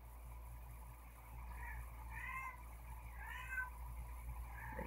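A cat meows a few times in a home, faint rising and falling calls over a steady low hum, with no talking.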